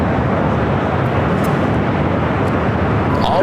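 Airplanes queued on the runway at LAX, idling as a loud, steady, broadband jet roar that fills the whole stretch, with faint brief chirps near the end and no voices.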